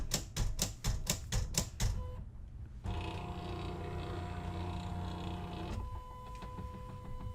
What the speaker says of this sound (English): So this will run my design through, and then once it's done, I'm going to unload it and set up my next cut.